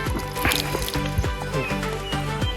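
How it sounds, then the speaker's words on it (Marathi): Water dripping and trickling through a makeshift natural filter beside a forest stream, busy close splashing drips with liquid gurgles in an irregular patter, heard on its own without speech. "नॅचरल फिल्टर करतोय आता आपण हे पाणी"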